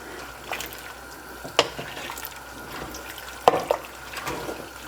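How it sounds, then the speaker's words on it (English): Corn relish with ground turmeric being stirred in a cooking pot: steady soft scraping and wet swishing with a faint simmer underneath, plus two sharp spoon knocks against the pot. "And I'm going to keep stirring this."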